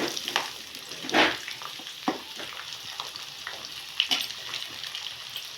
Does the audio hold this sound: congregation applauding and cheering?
no